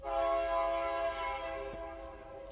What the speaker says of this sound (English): oh of course there's a train